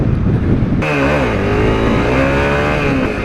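A Honda CRF 250L motorbike revving for a wheelie, the engine note jumping sharply then holding a loud, buzzy rising whine, close and alone with some wind buffeting.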